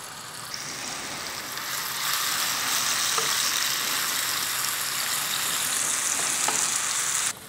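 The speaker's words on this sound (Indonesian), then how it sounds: "Setelah halus langsung kita tumis." Ground spice paste with broth powder and salt stir-fries in a pan, giving a steady, close, loud sizzle that swells after the first half second and holds evenly to the end with faint stirring scrapes.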